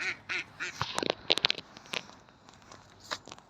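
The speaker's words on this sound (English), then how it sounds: "Who makes that sound? It's a little bird" A small outdoor bird with a white face calls in a series of short, bright chirps and squeaky notes, moderately close, with quiet rustling between calls on an English nature walk.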